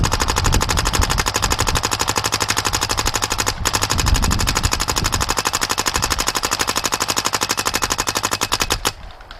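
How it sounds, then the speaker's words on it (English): A Dye Matrix spool-valve paintball marker fires a long, rapid, steady string of shots down range, each pop loud and close in an even rhythm that runs for about nine seconds before cutting off. "we'll shoot it, and we'll shoot it down range and just make sure we don't see any drop off or anything like that"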